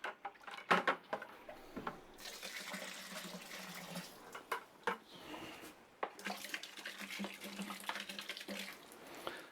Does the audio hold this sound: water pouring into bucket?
yes